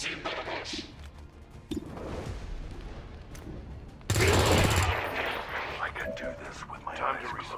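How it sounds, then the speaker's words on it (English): Submachine gun fire in a turn-based squad combat video game with low-level soldiers, bursts of gunfire rising to a loud peak midway, mixed with game sounds and someone talking over it. "we kill this guy with our little SMG"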